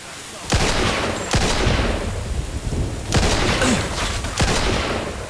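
Gunfire in Mafia II: Definitive Edition, several sharp loud shots with echoing tails, clustered in two bursts about three seconds apart, ending in a headshot.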